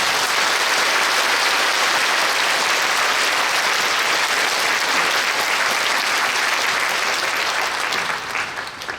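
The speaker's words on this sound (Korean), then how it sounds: "뜨거운 박수로 모시겠습니다" Large congregation at a Korean church's Liberation Day 80th anniversary service gives sustained, loud applause welcoming the senior pastor, a thick, even roar of clapping that fades slightly at the end.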